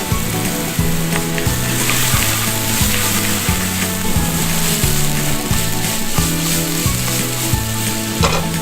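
Garlic and onions fry in olive oil for pasta alla puttanesca, a loud, steady close sizzle with a regular rhythmic scraping of stirring running underneath, and no talking.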